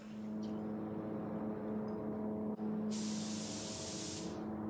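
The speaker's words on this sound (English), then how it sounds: "I usually spray this around 29 psi with this tip." Spray gun at about 29 psi laying high-build primer onto a fiberglass body panel of a 1967 Shelby GT-500, a loud close hiss that starts abruptly, holds steady for over a second, then cuts off, over a constant background hum.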